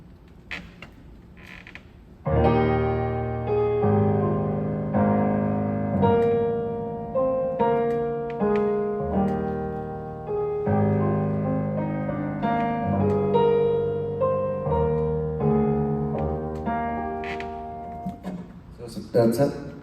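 An orchestra plays the lyrical middle section of a Beethoven overture, with sustained strings and winds carrying a slow, gentle melody in swelling phrases after a brief quiet lead-in.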